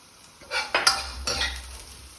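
Onions hit a hot wok for Chinese-takeaway-style crispy chilli beef, giving a sizzle with several scraping, stirring clatters of a utensil against the metal, close and moderately loud.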